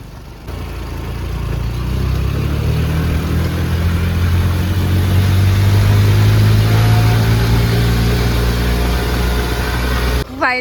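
A car climbs a steep, rough shortcut road toward Nahargarh Fort in Jaipur. The engine labours in a low gear with a loud, sustained drone that gradually rises in pitch, heard from inside the car.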